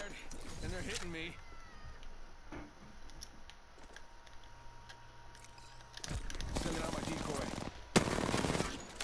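Bursts of automatic gunfire from Apex Legends crack out in a quick rattle early on, then return as louder sustained volleys near the end, with quieter ticking game sounds in between and no voices.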